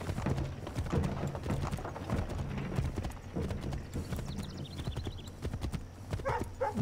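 Horse galloping in the video game Assassin's Creed III Remastered, a steady rapid clip-clop of hooves close by, with game ambience and a faint snort.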